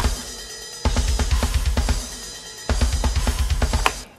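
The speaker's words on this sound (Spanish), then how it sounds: "la batería por sí sola suena así" Drum kit played solo in a metal song breakdown, with fast punchy kick and snare hits in two dense bursts separated by a brief sparser stretch, loud and close with bright cymbal wash and no talk.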